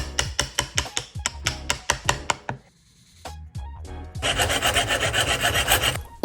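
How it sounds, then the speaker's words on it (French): A wood chisel cuts notches in a small wooden fingerboard bowl, with a run of rhythmic sharp scraping strokes, a brief pause, then a longer dense rasping scrape, all close up. "je vais enlever tout ce qui gêne au ciseau de bois"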